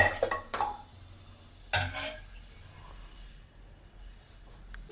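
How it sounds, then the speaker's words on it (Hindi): Pots and utensils clatter on a kadhai as biryani is reheated in a home kitchen: a few sharp clanks near the start and another burst midway, then quieter low rustling. "अब इस कढ़ाई पे बिरयानी गरम करते हैं।"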